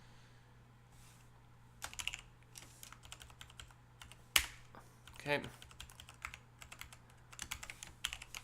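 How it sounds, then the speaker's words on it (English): Rapid clicking on a computer keyboard while code for a C program is written, with quick bursts and short pauses over a low steady hum, close and fairly faint, and a brief spoken word partway through. "Man, this is a lot of typing."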